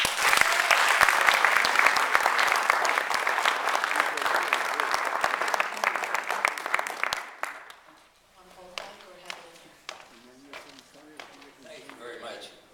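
An audience claps loudly to welcome a comedian onto the stage, a dense burst of applause lasting about seven seconds before it cuts off and the performer starts speaking alone in a quieter room.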